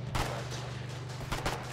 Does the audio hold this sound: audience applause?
no